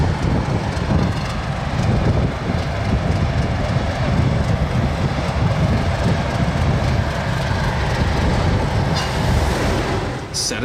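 Diesel locomotive DI-1102 in red paint with yellow stripes runs on the Ferrymead heritage railway in New Zealand, a loud, steady engine rumble with rolling rail noise throughout.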